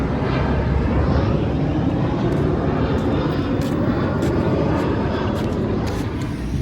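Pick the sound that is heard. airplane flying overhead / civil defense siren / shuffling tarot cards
airplane flying overhead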